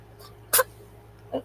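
A single short sneeze bursts out once, close and fairly loud against a quiet background with a steady low hum, followed a moment later by a smaller faint sound.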